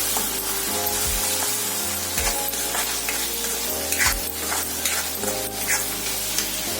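Ginger, garlic and coriander paste sizzles in hot oil as it is stirred in a pan over medium heat for an egg masala curry, making a steady frying hiss with occasional utensil knocks and background music.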